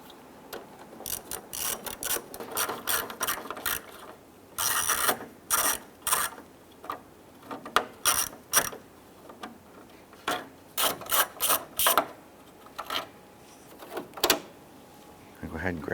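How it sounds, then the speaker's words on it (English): A ratchet with a 7mm socket backs out grille screws on a 1995-2001 Ford Explorer, giving repeated bursts of sharp, rapid clicking in short spaced runs, with a person talking in between. "Remove the 4 screws along the top of the grille using your 7mm socket."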